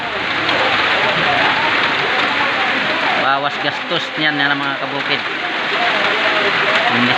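Steady, loud rain falls in the countryside in the Philippines, a dense, continuous hiss that lasts throughout while someone speaks over it in the middle.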